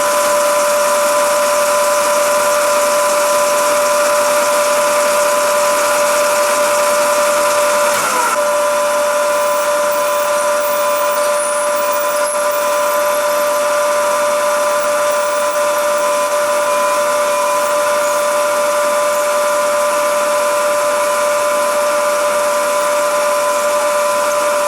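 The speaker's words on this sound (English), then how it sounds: "Time to center drill and then drill with this" A drill with a 5mm bit runs steadily with a constant high whine and a broadband roar that barely changes from start to finish. No one speaks.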